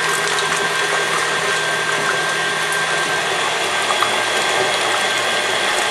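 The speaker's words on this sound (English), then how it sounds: "We're gonna put our egg whites here in the mixer and run this to high." Stand mixer fitted with a wire whisk whipping egg whites on high speed, a loud, continuous whirring motor drone with a rattling mechanical edge, steady and close throughout.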